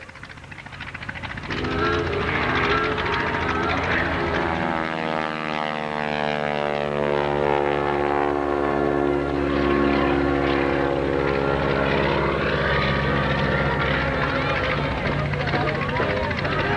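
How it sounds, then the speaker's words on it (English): A 450 horsepower Stearman biplane passes at an airshow, its radial engine droning loud and close as the pitch sweeps downward with the flyby, steady and sustained for most of the stretch. "Wagner comes by on the 450 horsepower Stearman"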